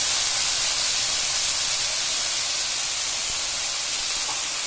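Sardines and tomatoes sauté in a hot pan, giving a steady loud hiss of spattering steam that runs unbroken for the whole stretch, close up and with no voices.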